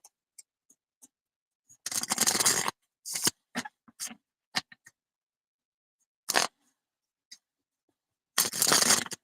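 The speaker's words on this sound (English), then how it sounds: "Hard to shuffle lately." Tarot cards that stick together are shuffled in several brisk riffling bursts separated by quiet gaps, with soft clicks and taps between them.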